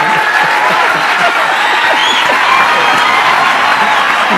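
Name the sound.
audience applause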